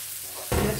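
Ground coconut paste for a spring chicken fry hits hot oil about halfway through, bursting into a loud, steady sizzle after near silence.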